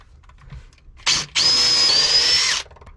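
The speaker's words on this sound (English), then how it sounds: "now for some big 6-inch lag bolts into here" A power driver sinks a 6-inch lag bolt into the timber of a wooden boat: a short first burst, a brief pause, then a loud sustained whine of more than a second that cuts off abruptly, up close with no talking.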